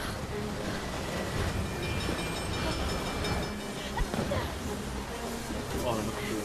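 A train in the video game Beyond: Two Souls rumbles steadily with continuous rolling wheel noise and faint clatter, while people talk over it.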